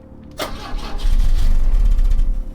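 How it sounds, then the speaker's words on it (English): A car engine in a video game cranks after a click and rumbles roughly at low pitch, staying loud and uneven to the end rather than clearly cutting out. "the engine splutters and dies"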